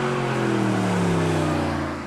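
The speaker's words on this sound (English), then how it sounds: "When you fire the engine to life, there's a delightful snapping snarl" The V8 engine of a 2014 Mercedes-Benz SLS AMG supercar snarls in a steady, loud idle with a deep rumbling tone, heard close up with no other sounds.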